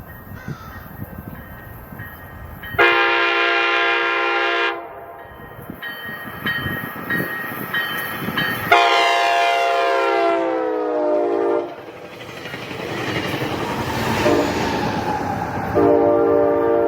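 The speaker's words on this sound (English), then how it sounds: "Tamarack Avenue for Coaster 674 to come on through and give me some really nice Doppler." A Coaster commuter train passes at Tamarack Avenue in North County San Diego, sounding loud horn blasts whose pitch drops sharply with Doppler shift as it goes by, then rumbles off while another horn sounds, with no talk.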